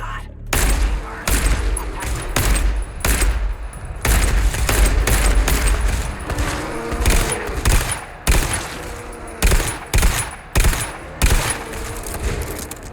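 Bursts of automatic gunfire and heavy booms from a solo mining-level shooter game, coming in rapid clusters with short gaps, loud and close, with a voice talking in between.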